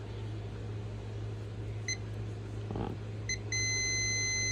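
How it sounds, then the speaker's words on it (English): A multimeter beeps while probing an air fryer during a repair: two short electronic chirps, then a sustained steady tone over a low constant mains hum. "It's beeping, showing 0 volts."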